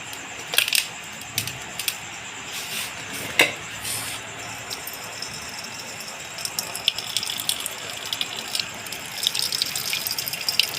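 Cooking water from boiled moong dal, greens and green chillies is poured off from a pot. Light watery splashing and dripping is broken by a few sharp metallic clinks and taps, close by and without voices.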